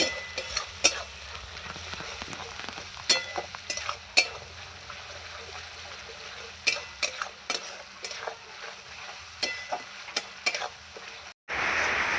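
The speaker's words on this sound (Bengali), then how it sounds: "এইভাবে নেড়ে নেড়ে আমি মশলাটা কষাবো" Spice paste of onion, ginger and garlic being stirred and fried in a pan, with repeated sharp scrapes and clinks of a spatula over a soft, steady sizzle and a brief gap near the end.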